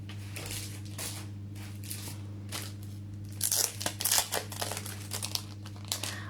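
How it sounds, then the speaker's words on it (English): A die cutting machine pressing cardstock for a card, with crinkling and crunching bursts in the middle over a steady low machine hum. "I will quickly die cut this"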